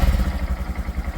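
A 2023 Honda Monkey motorcycle with its stock exhaust runs close by, giving off a steady low chugging pulse with a slightly uneven, lumpy rhythm. No voices are heard.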